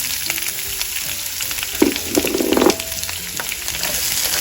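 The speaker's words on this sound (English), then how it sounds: "now is a good time to saute our vegetables" Chopped green peppers and onions sautéing in hot olive oil in a pan, a steady close sizzle with a few louder crackling bursts near the middle as the vegetables are stirred.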